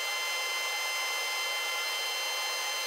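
A hand plane shaves a glued wooden element, the back of a joiner's workbench, with a continuous bright, hissing scrape throughout the short stretch, close up and without speech.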